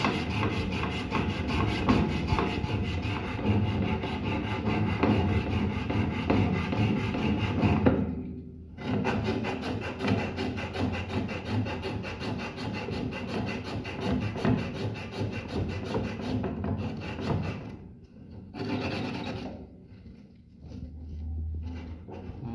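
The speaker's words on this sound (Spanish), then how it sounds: "La tubería de metal siempre hay que lijarla perfectamente." Steady abrasive rasping of sanding a refrigerator's metal pipe before welding runs almost continuously, with two brief pauses, fairly close and loud.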